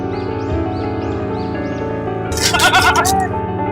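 A goat bleats in a short series of wavering cries, close by, followed by a brighter burst of noise near the end.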